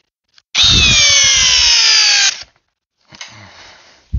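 A Ridgid R86115 brushless hammer drill whines loudly for about two seconds, then stops; after a pause it runs again, quieter and strained, as if labouring against a 5/8 by 12 inch lag screw.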